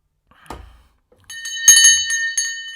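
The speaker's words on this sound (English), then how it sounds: "I just wanted to ring the bell." A bell is rung once at a live online piano lesson: a soft knock comes first, then a bright, ringing bicycle-style ding that lingers and decays clearly on its own.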